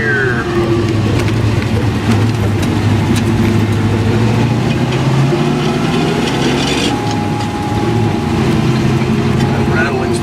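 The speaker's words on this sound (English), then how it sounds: "That rattling's the parking brake handle." A loose parking brake handle rattles inside a moving car in second gear, irregular light clattering ticks scattered over a steady, loud engine and road rumble throughout.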